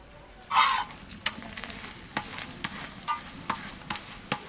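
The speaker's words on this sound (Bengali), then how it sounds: "এই পরোটাটা কত কম তেলে ভাজছে দেখুন" A paratha fries in a pan with very little oil, giving a steady, close sizzle broken by a loud scrape early on and then regular sharp taps and scrapes of a spatula turning and pressing the bread.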